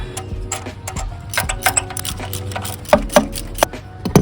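A torque wrench tightening spark plugs on a BMW 750Li engine, a rapid run of sharp ratcheting clicks and metallic ticks, close and fairly loud, with brief pauses between bursts.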